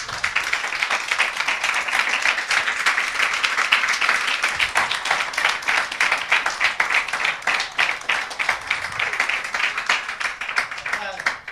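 Church congregation applauding during a sermon, loud sustained clapping from many people filling the room, close and continuous with some voices mixed in.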